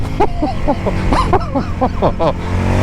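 A 2022 Indian FTR S motorcycle engine revs in second gear through the power band, a loud close rumble alongside an excited voice whooping and exclaiming over it in short bursts.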